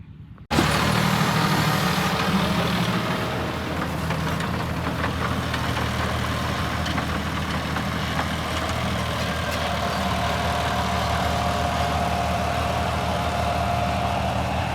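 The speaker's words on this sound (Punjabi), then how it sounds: "ਇਦਾਂ ਮੁੜਦਾ ਟਰੈਕਟਰ ਮਿੱਤਰੋ" A tractor engine idles steadily at close range with a low, continuous rumble and slight knocking, starting abruptly and holding throughout, as the tractor turns in a wheat field.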